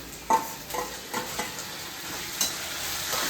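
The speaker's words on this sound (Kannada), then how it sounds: "ಸೊ ಇವಾಗ ಟೊಮೆಟೊ ಹಾಕೊಳ್ತಾ ಇದ್ದೀನಿ" Tomatoes tipped into a hot pan and frying with a soft steady sizzle, broken by a few scraping stirs of a spatula, close and fairly quiet, with no talking.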